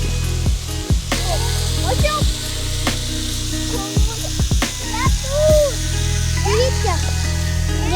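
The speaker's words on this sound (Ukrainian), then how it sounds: "Можна навіть ось так ось на сковорідості." Food sizzles in a frying pan, a faint hissing bed running under frequent voices and whistly vocal sounds that dominate the foreground.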